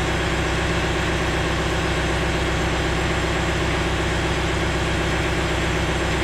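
A John Deere 4066R compact tractor engine runs at a steady idle close by, producing a constant, unbroken low drone with no other sounds.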